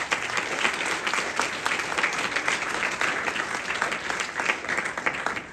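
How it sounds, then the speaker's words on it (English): Sustained applause from an audience at a yagna ceremony, steady dense clapping close by that fills the whole stretch without pause. "give Pandit Ganesh ji a round of applause"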